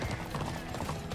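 A horse in the online game Alicia Online gallops with steady, quick clip-clopping hooves, continuous and moderately loud over a busy game soundscape.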